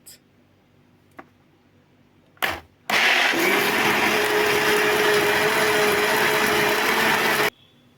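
A kitchen blender whirs up prickly pear juice with whipped cream, loud and steady for several seconds after a couple of soft knocks and a brief start-up burst, then cuts off abruptly.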